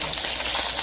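Seasoned salmon sears in a hot pan, giving a steady, close, even sizzle with no speech.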